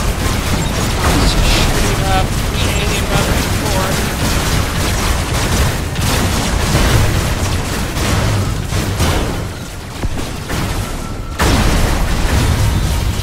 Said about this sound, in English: Let's just shoot him up.